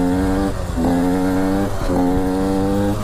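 A KTM 125 SX two-stroke motocross bike screams as it is ridden close by, its revs rising and dropping in two surges with a brief gear-change dip, loud and steady with no talk.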